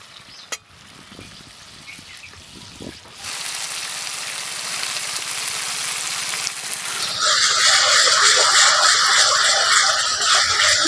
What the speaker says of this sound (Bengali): এবার একসঙ্গে ভালো করে একটু নাড়াচাড়া করে কষে নেব।